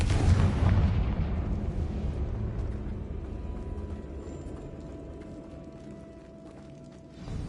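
A loud, booming blast from a Confringo spell in a Harry Potter video game, a heavy explosion at the start that rumbles and slowly decays over several seconds, with no voices.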